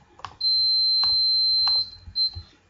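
Electronic beeps sound close and clear: a long sustained high tone runs under three short clicks, then a brief second beep follows.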